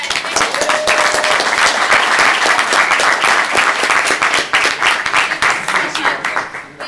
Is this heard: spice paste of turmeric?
no